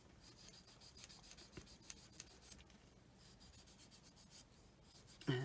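Hand buffing of a polymer clay pendant with a cloth, a quiet, continuous dry rubbing in short repeated strokes, close and steady, with a brief louder knock near the end.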